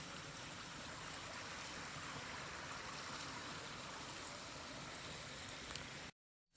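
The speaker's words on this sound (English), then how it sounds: "So with the beautiful creek, it's just absolutely beautiful out here." A creek on a hiking trail between Boxley and Steel Creek flows in a steady, unbroken rush of water, moderately faint, with no voices, before the sound cuts off abruptly at the end.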